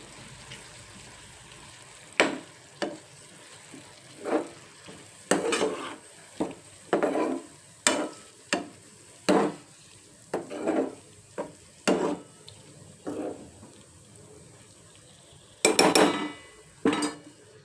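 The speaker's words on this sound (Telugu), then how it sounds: "ఒకసారి కలుపుకొని" Mushroom curry with tomatoes being stirred in a pot, a spoon scraping and knocking against the metal in about a dozen separate close strokes, spaced unevenly, with a faint sizzle underneath.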